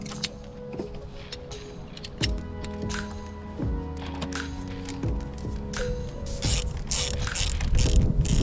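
A ratchet tightens a 10mm bolt on the battery terminal of a Mercedes CLS W218, with close, steady clicking pawl strokes in repeated runs, growing busier and louder toward the end.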